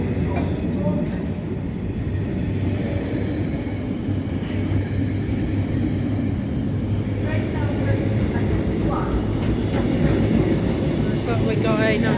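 A train passes through Stafford station on the West Coast Main Line, giving a loud, steady rumble and clatter of wheels for the full length, heard close from the platform with faint talk under it.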